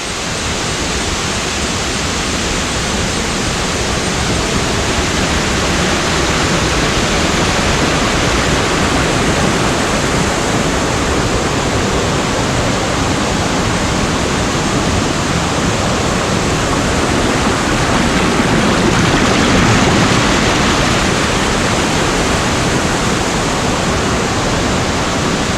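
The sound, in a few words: Madaseri waterfall rushing water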